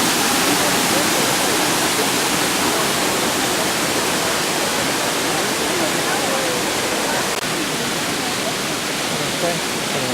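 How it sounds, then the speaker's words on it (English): A waterfall in El Yunque forest pours in a dense, unbroken roar, loud and close, with no pause over the whole stretch. "Check out the waterfall over here."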